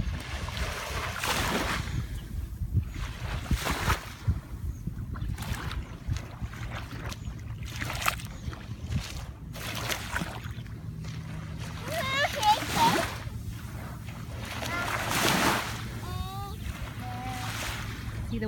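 Gentle ocean waves at a beach in the afternoon: soft, repeated washes and splashes of surf at moderate distance, with brief voices and small splashes breaking in now and then.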